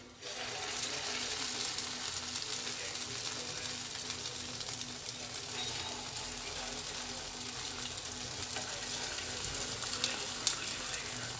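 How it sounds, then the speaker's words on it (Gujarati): Sabudana vada frying in oil on a low flame, giving a soft, even sizzle that stays steady and fairly quiet throughout, with one small pop near the end. "આને તળાવા દઈશું ધીમા તાપે"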